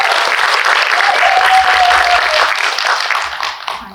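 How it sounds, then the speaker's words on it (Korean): Loud, full applause from a film audience at a screening Q&A for director Lee Myung-se, sustained with a faint voice over it before tapering off at the close. "우리 이명세 감독님께 뜨거운 박수 한번"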